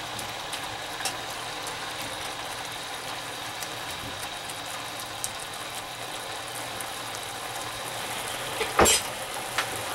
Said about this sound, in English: Let the alcohol boil out.